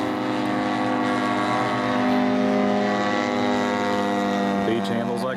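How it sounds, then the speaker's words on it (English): Twin-engine Beech airplane flying on one engine, its steady droning engine and propeller hum holding loud and continuous throughout, with faint voices in the background. "Beach handles like a baby on one engine, Dave."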